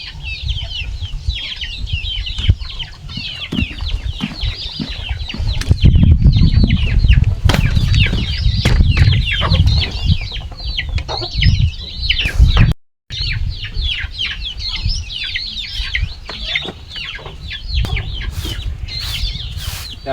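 Chickens in a poultry feeding area cluck steadily and flap their wings in bursts, with some chirping birds mixed in and a brief silent gap partway through.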